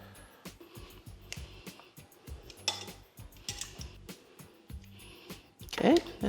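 Noodles go into a soup bowl for Vietnamese beef brisket soup, giving a run of light clinks and taps of utensils against the dish, with a louder clatter near the end and a voice talking between them.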